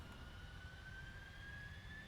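Jet engines of a PMDG Boeing 747 in Prepar3D spool up with a steady low rumble and a rising whine that climbs in pitch, heard from inside and fairly quiet, with no talk.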